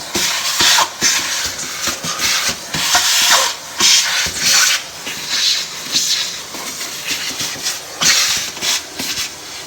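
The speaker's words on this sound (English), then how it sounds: "I have my vacuum. I like to vacuum this out here." A vacuum cleaner roars up close while cleaning out a litter box, its loud hissing suction surging and dropping in uneven bursts as the nozzle moves around.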